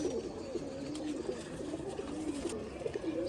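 A male racing pigeon from a pigeon club in Savar coos in a low, steady, throaty murmur. The sound is close and continuous through the moment, with no talking.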